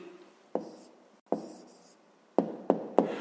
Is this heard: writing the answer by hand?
yes